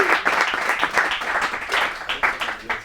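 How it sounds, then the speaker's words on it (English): Sustained applause from an audience at an e-bike manufacturer's community launch event, honoring the team; dense, steady clapping that carries through the whole stretch with slight swells. "I just want to give a round of applause to that team"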